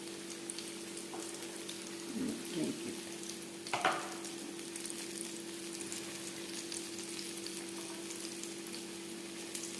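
Chicken pieces deep-frying in hot oil, a faint, steady, rain-like crackle and sizzle with a couple of brief bubbling bursts early on and a low background hum.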